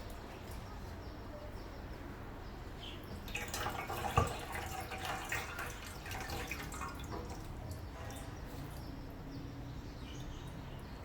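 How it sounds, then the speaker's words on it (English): Water is poured off soaked soya beans to rinse away their peels. A quiet trickle swells into a louder splashing pour midway, then settles back to faint dripping. "try to pour out the water so you can get the peels"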